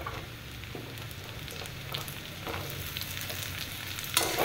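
Diced potatoes fry with browned onions in a pan, giving a soft, steady sizzle with occasional light stirring scrapes. It is fairly quiet and close, with no talk.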